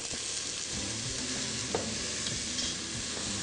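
Onions and garlic frying in a pan just after a tablespoon of vinegar goes in, a steady broadband sizzle with a few faint stirring scrapes and clicks, alone with no talk.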